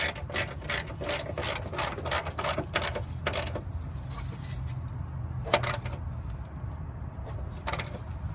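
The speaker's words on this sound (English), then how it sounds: "Don't forget to tighten up the ones that hold the top hat up." A ratchet wrench tightens the 14 mm bolts holding a coilover's top hat, giving long runs of rapid, close pawl clicks with a few short pauses and quieter clicking near the end.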